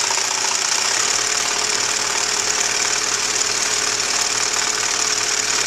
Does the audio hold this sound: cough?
no